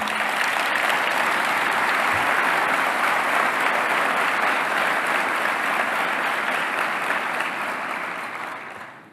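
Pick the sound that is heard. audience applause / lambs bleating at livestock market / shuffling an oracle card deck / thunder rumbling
audience applause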